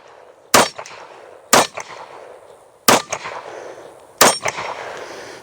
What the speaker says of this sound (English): Let's do a little shooting. Start off with that big steel target in the middle.